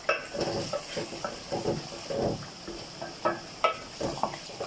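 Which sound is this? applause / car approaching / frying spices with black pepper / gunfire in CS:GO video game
frying spices with black pepper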